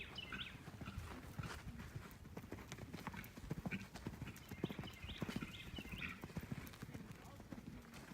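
Hooves of a horse cantering in an indoor riding arena during a hunt seat lesson beat in a steady three-beat rhythm, moderately close, with a neigh and an instructor's voice heard over them.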